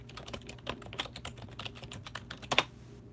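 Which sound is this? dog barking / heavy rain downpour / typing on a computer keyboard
typing on a computer keyboard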